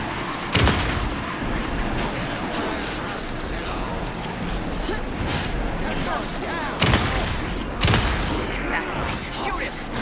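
Shockwave blasts in Alan Wake 2, two sharp booming bursts landing about six seconds apart over a dense, rumbling bed of noise, loud and close.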